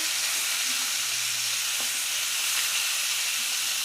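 Long eggplant slices frying in a pan of oil, a steady close sizzle and hiss running alone throughout, with a faint clink of utensils.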